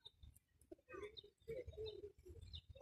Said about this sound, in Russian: Ой, на меня голуби напали.